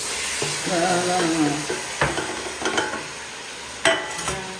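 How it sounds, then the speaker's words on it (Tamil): Chopped tomatoes are stirred in a pan until they mash down, giving soft sizzling and several distinct scrapes and taps of a utensil against the pan, heard close with no voices. "பேஸ்ட் ஆகிற வரைக்கும் வந்து கிண்டிக்கிட்டே இருக்கணுங்க"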